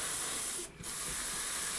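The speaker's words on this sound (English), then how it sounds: "Just spraying the interior now with a bit of Tamiya dark grey" An airbrush or spray can applies Tamiya dark grey paint to the interior of an Airfix Bf109 model kit, making a steady close hiss that stops briefly and then resumes.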